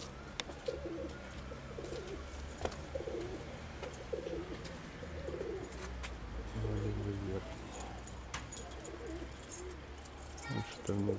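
A flock of racing pigeons coos softly outdoors, low repeated calls scattered among faint rustling and small clicks, with occasional quiet voices in the background.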